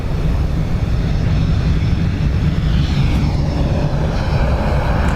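Aer Lingus airliner at Dublin Airport, heading off to Gatwick, heard as a loud, steady jet engine roar close by, filling the whole clip with no talking.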